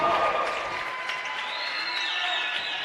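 Crowd cheering and applause at a women's college basketball conference semifinal after a three-point shot, a steady broad roar of the arena crowd sustained throughout, with no talk over it.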